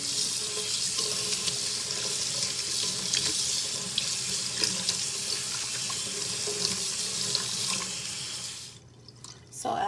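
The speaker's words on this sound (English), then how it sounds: "now I'm about to wash that Wella toner out" Steady running water from a sink tap as Wella toner is rinsed out of hair, a continuous loud splashing wash throughout that cuts off near the end, with no voices.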